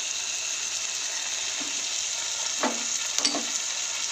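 Chilli parotta sauce sautéing in hot oil, a steady close sizzle with a few scraping stirs of the spatula near the end, no voices.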